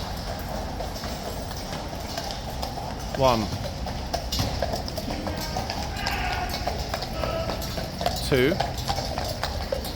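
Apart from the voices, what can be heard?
horses' hooves clip-clopping in a tunnel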